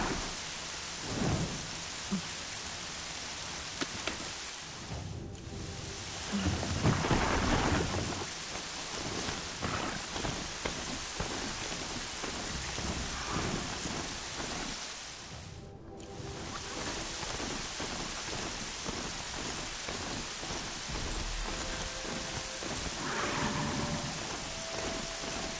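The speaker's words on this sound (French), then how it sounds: "Non, mais il pleut encore." Steady rain and rolling thunder in the video game Horizon Zero Dawn, a continuous wash of rainfall with deep rumbles swelling twice through the stretch, no voices over it.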